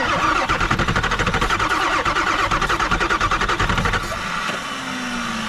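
A Ford 7.3 Powerstroke diesel cranks over on a cold, snowy day, the starter chugging in a steady fast rhythm for about four seconds before dropping to a lower, steadier rumble, close and loud.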